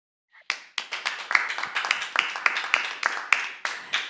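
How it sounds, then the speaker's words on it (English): A small audience at a science conference session claps: a handful of distinct, close hand claps in an uneven rhythm, roughly a dozen sharp slaps rather than a blended wash, with no talking. "that applause was also for Mrs. Krieger, which we lost on the applause"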